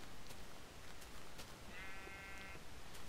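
A sheep in the video game Minecraft gives a single short bleat, with a hiss of background noise and faint clicks before and after.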